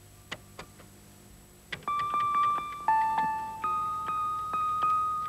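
Electronic chip tones from a computer's function keys: a few sharp clicks, then a series of sustained pure beeps at shifting pitches, each starting abruptly and fading, clear and close with no talk.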